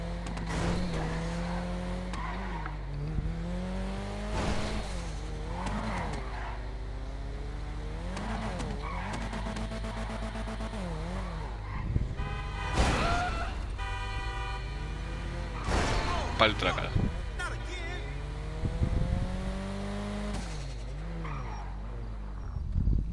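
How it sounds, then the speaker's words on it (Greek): PS4 video game car engines rev and whine up and down continuously, with tire squeals and skids, loud and without any voices. "Να ακούσετε λίγο πως έκανε το αυτοκίνητο."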